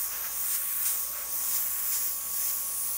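An airbrush hisses continuously up close, spraying paint onto a paper stencil, a fine steady spray with slight pulsing, and no talking.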